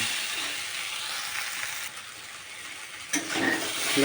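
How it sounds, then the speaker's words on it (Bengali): Spices and chilli sautéing in hot oil in a pan for a thin river-fish curry, giving a steady close sizzle with stirring throughout and no voices. "এখন আমি মিনিটখানি কষিয়ে দিয়ে দেব"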